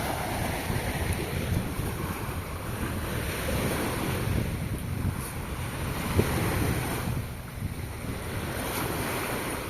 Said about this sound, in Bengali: একটু সমুদ্র দেখেন